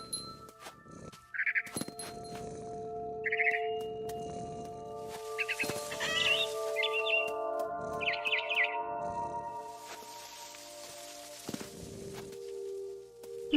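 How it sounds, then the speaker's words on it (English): Bird chirping in the video game What Remains of Edith Finch, short bright chirps and tweets scattered among soft game music tones, in several separate bursts. "Then I heard chirping in the window."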